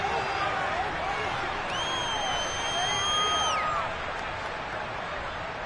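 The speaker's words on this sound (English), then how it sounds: "Plenty of shouts from this crowd as they watch the replay." Playoff football stadium crowd roaring as they watch a replay, a loud, steady wall of shouting with rising and falling swells throughout.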